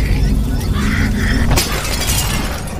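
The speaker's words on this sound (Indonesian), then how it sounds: "seekor gagak tiba-tiba menabrak kaca jendelanya sampai-sampai membuat kaca jendela itu pecah" Window glass shatters loudly and suddenly as a crow crashes into it, cutting in over a narrating voice and a dense bed of background music and noise, followed by a bright scatter of breaking glass.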